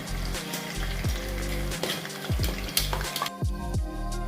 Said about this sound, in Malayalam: അതിലേക്ക് നമുക്ക് മീൻ കുറേശ്ശെ കോരിയിട്ട് എല്ലാം വറുത്ത് കോരി എടുക്കാം